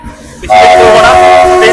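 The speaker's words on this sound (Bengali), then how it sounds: "সাইরাং স্টেশন থেকে এই হচ্ছে কলকাতা সাইরাং এক্সপ্রেস ট্রেন কিন্তু ছেড়ে দিল" The Sairang–Kolkata Express at Sairang station in Mizoram sounds a loud, sustained horn that cuts in abruptly after a quiet moment, sounding near and steady as the train departs.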